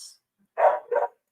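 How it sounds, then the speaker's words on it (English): A dog gives two quick, loud barks in close succession, near and clear against silence, with a faint high squeak just before. "Oh my god, where's my dog barking? Make her stop barking, Michael."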